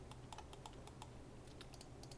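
Keyboard shortcuts pressed on a computer keyboard while working in Blender: a quick series of crisp, close key clicks, about a dozen taps in irregular bursts over a low steady hum.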